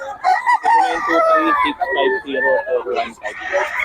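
A Sweater Gilmore gamefowl rooster crows at a busy Bocaue market, its drawn-out calls rising over near, steady chatter from several people.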